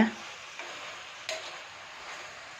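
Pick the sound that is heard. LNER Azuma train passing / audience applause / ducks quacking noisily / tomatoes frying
tomatoes frying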